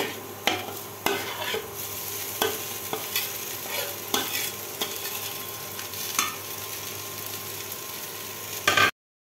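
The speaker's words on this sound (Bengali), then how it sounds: "ভাজি হয়ে গেছে, এখন নুডলসটা দিয়ে দিব।" Noodles stir-fried in a pan give a constant sizzle marked by repeated scraping and tossing strokes from a utensil, close and loud, ending abruptly.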